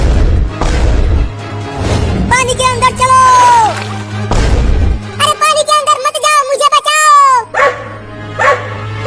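Two dogs bark and yip in bursts, close and loud, with whining between barks and a voice speaking at the start.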